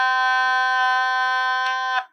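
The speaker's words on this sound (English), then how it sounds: "I need to learn how to play the Otamatone." An Otamatone holding one steady buzzy, nasal electronic note, loud and unwavering for about two seconds before a quick wobble and abrupt cutoff.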